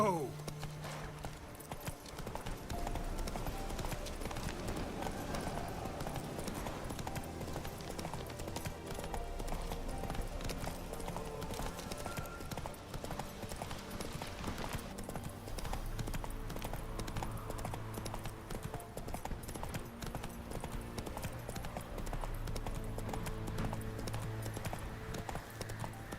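Roach, the horse in The Witcher 3, gallops with a steady, continuous clip-clop of hooves under game music, and a voice talks over the sound throughout.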